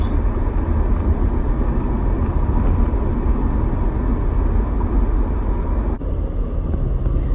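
A loud car in need of repair gives off a constant heavy rumble and droning engine and road noise from inside the vehicle. It stays steady throughout, with a brief dip and a thump near the end.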